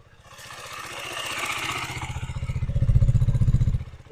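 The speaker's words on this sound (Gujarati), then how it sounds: "આ એન્જિનનો અવાજ છે રેસ આપ્યા વગર," A motorcycle engine idles without revving, a steady low mechanical chug that grows slightly louder and rougher toward the end, close to the listener with no talking.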